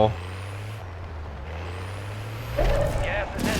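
A vehicle in Call of Duty Warzone drives off with a steady low engine drone, rising into a louder rev and rumble near the end, with an air-brake-like hiss.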